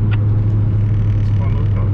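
Chevy Beretta GTZ coupe engine running as a steady, close low hum and rumble with a strong constant drone, heard from inside the car.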